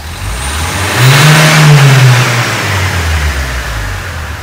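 A nearby car engine revs up hard, its pitch rising and then falling back over a few seconds under a rushing roar.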